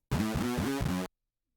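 A synth line in an electronic music track carries a delay effect: a short burst of repeating, echoing tonal pulses with rich harmonics, about four evenly spaced hits over a second, loud and close, then abrupt silence.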